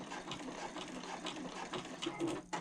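A sewing machine back stitches a handbag panel, its needle running in a fast, continuous mechanical patter at low volume, with a brief pause and restart near the end.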